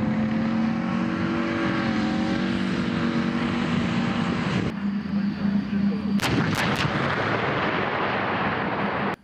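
Tanks, machine guns and guided missiles fire at a military training ground, a loud continuous barrage of gunfire and heavy rumbling blasts with engine noise, ending in a few sharp cracking shots close by.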